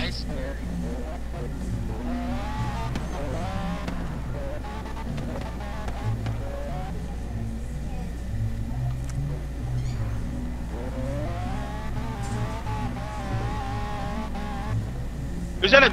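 Racing car engine droning and revving in the Forza Horizon 3 video game, in the rain, a steady engine tone running throughout with rising and falling pitch sweeps, under talk and background music.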